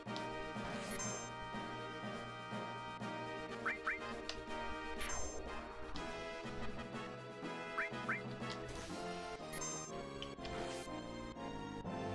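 Birds in a Final Fantasy VII New Threat mod give loud, repeated duck-like quacking calls over busy, continuous game music and effects, with a few sharp crashes.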